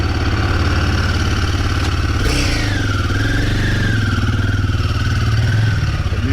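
A Royal Enfield Guerrilla 450 motorcycle engine idles steadily close by, a continuous low throbbing rumble with a brief rise partway through, no voices.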